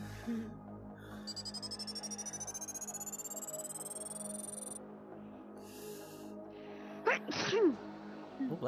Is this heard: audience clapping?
no